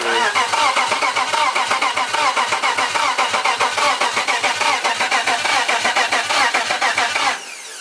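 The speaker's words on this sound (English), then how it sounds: "You got a crank no start, which means it's cranking." A BMW E90 with a turbocharged M52 engine cranks without catching, the starter whirring loud and close in a fast, even, pulsing rhythm for about seven seconds before it cuts off abruptly.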